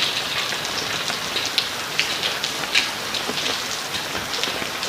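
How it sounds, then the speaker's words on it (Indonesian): Heavy rain pours steadily and loudly, a dense close hiss broken by scattered sharper drops spattering on surfaces, with no voices. "Ini nih hujan Mas."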